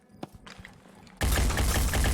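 In the tactical game Phoenix Point, a quiet stretch of faint clicks and thumps gives way to a sudden loud sniper rifle blast whose roar carries on to the end.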